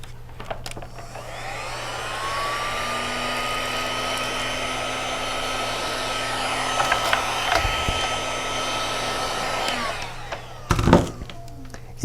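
Heat gun blowing on plastic shrink wrap around a case at a Traco SuperSealer I-bar shrink wrapper, a steady whirring blower hiss lasting about nine seconds, followed by a brief louder clunk and handling noise.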